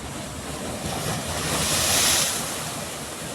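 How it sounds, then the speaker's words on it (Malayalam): Sea waves crash at Malvan beach in a loud, continuous roar of surf that swells and then eases, with heavy wind buffeting the microphone and no voices. "അതിനിടയിലൂടെ തിരയെ അടിച്ച് കയറുന്നുണ്ട്"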